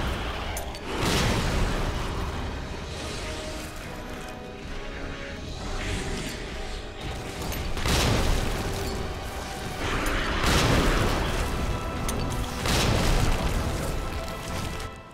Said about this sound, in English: Time to grenade.